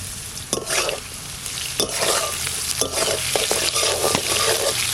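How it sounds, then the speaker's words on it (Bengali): Potato pieces with mustard seeds, turmeric and salt fry crisp in a pan for a Bengali dish, a steady loud sizzle broken by repeated scraping stirs of a spatula, with no talking. "আলুগুলো কি সুন্দর করে ভেজে নিচ্ছি একদম কড়া করে"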